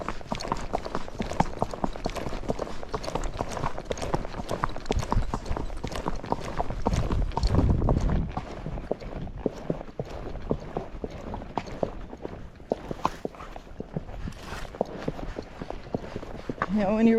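Tennessee Walking Horse named Chocolate Chip, a horse with a tripping and pacing problem, clip-clopping with steady hoofbeats close by while a person talks over them.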